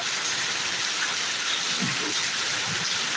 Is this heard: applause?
no